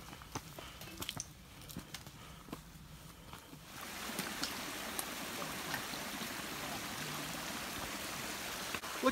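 A mountain stream in the Great Smoky Mountains flows in the open. Quiet rustling and light steps come first, then a steady wash of running water swells in after a few seconds and continues without talk.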